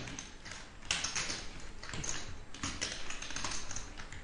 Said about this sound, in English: He's cutting up chips.